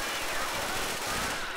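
Rapid bursts of Left 4 Dead 2 gunfire crackle in a dense, noisy stream, loud and continuous over the short stretch.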